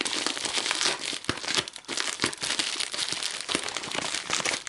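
A plastic-wrapped mail package is opened, with continuous, loud, close crinkling and rustling of the wrapping and a few tearing edges, heard alone without talk.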